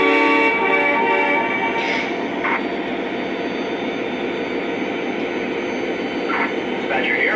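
Two Lionel TMCC model train locomotives run together as one unit, producing a continuous rumbling drone with horn-like tones, while a voice talks over it in dispatcher-style radio chatter.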